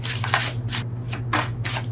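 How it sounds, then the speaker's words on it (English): Tarot cards riffled and shuffled by hand, crisp papery bursts recurring in an uneven rhythm over a steady low hum, close and moderately loud with no talking. "One more shuffle."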